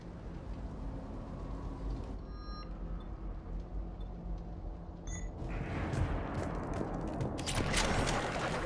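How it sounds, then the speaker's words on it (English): Bursts of gunfire crackle and boom amid a rumbling, noisy Mass Effect 3 game soundscape, growing denser and louder toward the end. "I hear gunfire."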